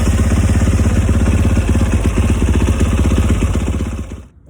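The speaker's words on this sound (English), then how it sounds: "Start by cranking your bike for a few seconds." A KTM 450 motorcycle engine runs steadily at a fast idle after being cranked, a loud close pulsing thrum that cuts off abruptly near the end.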